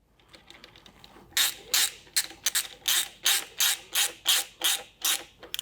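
A ratchet tightens a worm drive hose clamp during an LS Corvette alternator and power steering bracket install, about a dozen loud, evenly spaced clicking strokes up close after a few faint ticks.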